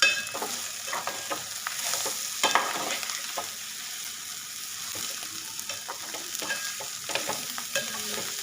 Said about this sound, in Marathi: आपली भाजलेली कारले जी आहेत ती आपण ॲड करूया मिक्स करू